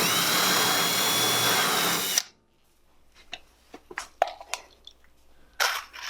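A power drill bores a hole for a steel pop rivet in sheet metal on a homemade syrup evaporator, a loud steady grinding whir for about two seconds that stops abruptly, followed by scattered metallic clinks and handling knocks.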